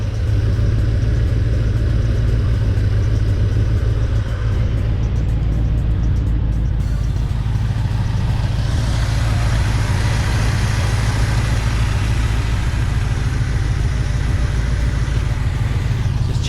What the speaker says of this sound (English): Idling nicely now, it's warmed up.